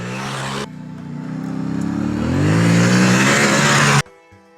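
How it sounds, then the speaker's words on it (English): The 689cc CP2 twin-cylinder engine of a 2022 Yamaha Ténéré 700 World Raid, with its uneven firing order, revs up, its throaty note climbing in pitch over a few seconds before cutting off abruptly. "The CP2 motor's uneven firing order gives it useful punch and a lovely engine note"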